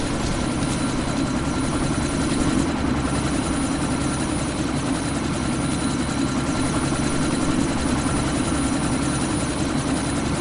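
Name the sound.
helicopter about to take off in Deus Ex Mankind Divided video game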